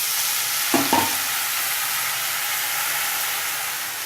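Arai keerai spinach tipped into a pan of browned onions for a Tamil poriyal, with a couple of quick stirring scrapes and bumps early on, then a steady close sizzle and hiss of frying throughout.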